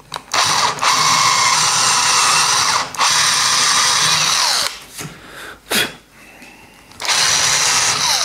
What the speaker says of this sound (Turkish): Bantın bittiği yerde delme işlemini sonlandıracağım.